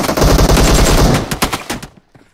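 Rapid automatic gunfire in a PUBG Mobile deathmatch rattles loud and close as a sustained burst, then breaks into scattered shots and trails off into near silence.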